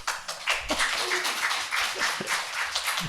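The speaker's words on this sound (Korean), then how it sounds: "박수 한번 치실까요?" Congregation at the Grace Church in Iowa clapping together at the start of an in-person Sunday service, a dense, steady patter of many hands at moderate distance, with a few louder close claps and faint voices underneath.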